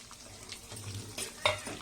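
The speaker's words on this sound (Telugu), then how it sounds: "ఇవన్నీ మంచిగా వేగేటట్టు వేయించుకోవాలండి" Fenugreek, coriander and cumin seeds fry in a pan with a light, steady sizzle, broken by soft stirring scrapes and a sharper clink of utensil on metal near the end.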